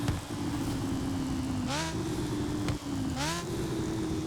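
A LEGO Ferrari F40 engine in Forza Horizon 4 idles with a steady low drone, then revs twice in short rising blips before settling back to idle.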